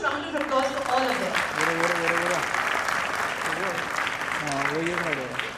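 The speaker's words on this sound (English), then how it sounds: "Can we have a huge round of applause for all of them?" Sustained audience applause at a children's ballet show in Jaipur, a dense wash of clapping throughout, with cheering and a voice or music-like tones rising over it intermittently.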